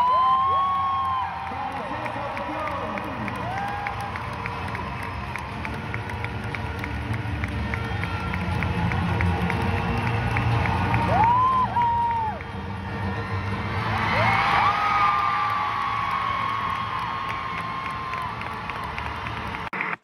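Crowd cheering in an arena at a rhythmic gymnastics world championship medal ceremony in Valencia as the Spanish team enters, a sustained roar with whistles and whoops swelling and fading, fairly loud and distant.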